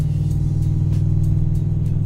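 Car engine idling with a leaking exhaust manifold after new studs and one new manifold were fitted, a steady loud low rumble with faint regular ticking pulses, close up and with no talking.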